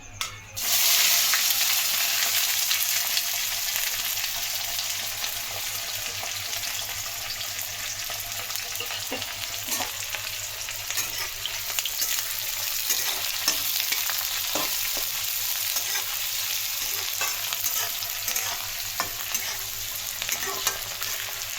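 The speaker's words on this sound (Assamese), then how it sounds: "এতিয়া ৰঙা হোৱালৈকে এইখিনি ভাজি থাকিম পিঁয়াজখিনি" Chopped onion and bay leaves fry in hot oil in a home kitchen pan, a steady, close, bright sizzle with scattered crackles and occasional stirring scrapes running unbroken throughout.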